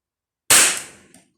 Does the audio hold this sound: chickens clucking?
no